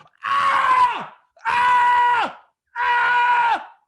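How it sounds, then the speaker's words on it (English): Three long, loud screams in a row, each rising then dropping off sharply, separated by brief silences. "The last time I heard a scream like that"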